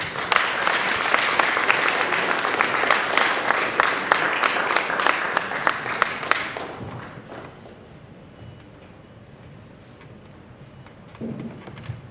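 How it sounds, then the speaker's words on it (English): Students give a group of teacher leaders a special clap at a technology leadership summit, a dense burst of rapid rhythmic clapping for about six seconds that stops abruptly, leaving quiet room tone with a faint thump near the end. "so our students can give you our special clap."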